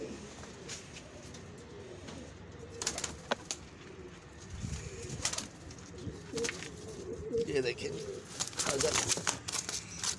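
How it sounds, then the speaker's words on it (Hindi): Two caught pigeons coo softly and intermittently at close range, with occasional wing flaps and rustling over steady background noise, no clear speech. "ये जी दो कबूतर जो है पकड़े गए"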